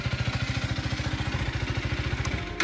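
A KTM Adventure 250 motorcycle engine idles steadily up close, with an even, rapid low thumping pulse and a faint mechanical clatter above it, running alone.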